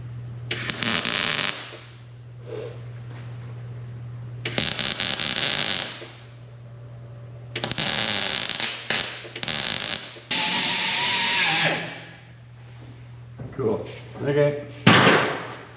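On a 1966 Impala SS patch panel, bursts of welding hiss and crackle close by, broken by short pauses, with a hum underneath throughout and someone talking between the bursts.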